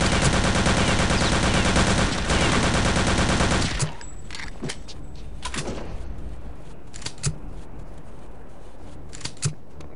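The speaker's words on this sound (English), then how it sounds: "Shots all over the place." Gunfire in the PC shooter Return to Castle Wolfenstein: a dense, loud rattle of rapid shots for several seconds, then scattered single cracks and bangs.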